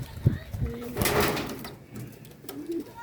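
Pigeons cooing inside a loft, with several soft, close coos and wing or body rustles over a few seconds.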